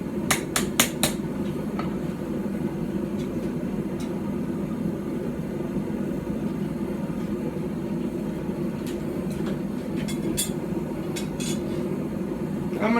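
A hammer strikes a blade on an Anglo-Saxon/Viking style stump anvil, a quick cluster of sharp blows at the start and scattered strikes later, over a steady low roar of forge or background noise.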